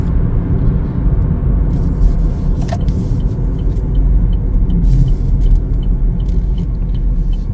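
A 2024 Chevrolet Equinox AWD LS with only 277 miles on the road, giving a steady, loud low rumble of engine and tire noise that holds evenly throughout, with no talking.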